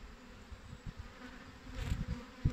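Honeybees at an opened hive, a faint, close buzzing hum with brief louder passes as individual bees fly near.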